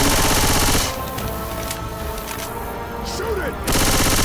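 Dense gunfire from the video game Left 4 Dead 2 fills a finals match, loud and continuous, with a short dip in the middle before it surges back, as players shout over it.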